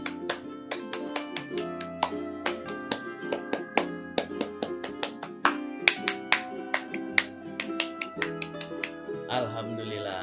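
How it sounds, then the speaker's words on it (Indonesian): Scout clapping pattern, the tepuk pramuka, performed three times: sharp rhythmic claps and snaps in repeating patterned bursts, close and crisp, set against a musical backing. "3 kali tepuk pramuka."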